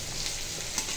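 Boiled potatoes added to chicken curry in a pan, giving a steady soft sizzle and bubbling simmer with light stirring, close and continuous, no talk.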